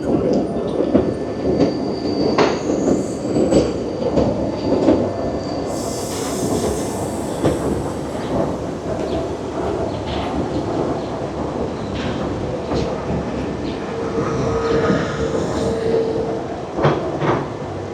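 A Gornergrat Bahn cogwheel train in Zermatt, Switzerland, rumbles along the track with a steady mechanical drone, wheels squealing at moments and rattling clatter throughout, loud and close.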